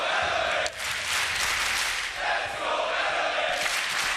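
A large arena crowd roars and cheers at the Six Berlin Major esports quarterfinal between W7M Esports and Elevate, a loud, sustained wall of voices that swells and dips only slightly.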